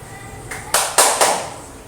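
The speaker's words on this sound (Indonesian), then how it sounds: "Kita tepuk semangat lagi." A pupil performs the rhythmic 'tepuk semangat' spirit clap in a classroom, three or four sharp, close claps in quick succession, each decaying briefly.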